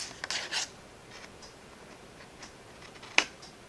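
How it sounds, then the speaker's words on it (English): Scissors snipping a small green strip from a paper card, heard as a few quick crisp cuts at the start and one sharp snip near the end, close up in a quiet room. "I'm just going to use my scissors just to make it easy. And I'm going to cut this little green strip away."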